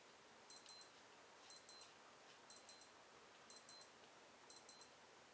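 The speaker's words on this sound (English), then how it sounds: "And there's my timer." Timer alarm sounding in a quiet room, five evenly spaced bursts of bright, high double beeps about once a second against faint background hiss.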